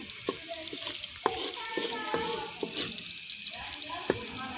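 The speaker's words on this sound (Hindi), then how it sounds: "आधा मिनट या 1 मिनट तक हम इनको फ्राई कर लेंगे ताकि अपनी खुशबू छोड़ दें।" Curry leaves, black cardamom and cinnamon fry in hot oil, giving a steady soft sizzle with occasional pops and stirring scrapes, heard close and fairly quiet.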